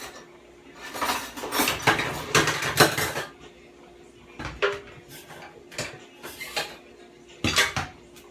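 A pot and metal utensils clatter and scrape in a home kitchen as corn is cooked with butter. Bursts of close clinking and rattling come in clusters with quiet gaps between them.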